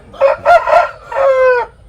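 A 13-month-old fighting rooster of a top-quality breed, about 3 kg, crows loudly and close, with short clucking bursts followed by one drawn-out call.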